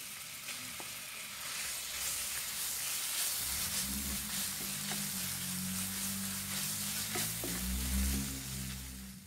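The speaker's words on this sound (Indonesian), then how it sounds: "Kemudian tumis bumbu yang sudah diulek tadi." Loud, continuous sizzling of ground spice paste frying in hot oil for Manado-style chicken woku, with scattered pops and a low hum joining partway through.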